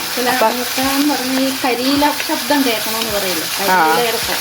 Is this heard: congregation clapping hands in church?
no